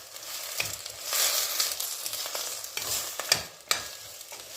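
Chopped vegetables and parsley are stirred in a pot while preparing vegetable soup, with scraping strokes of a utensil and soft sizzling, the irregular stirs coming close and clear with brief pauses between them.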